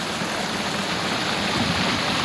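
A waterfall in the hills at Ban Na Ang, a steady, broad rushing of falling water, close and continuous with no break.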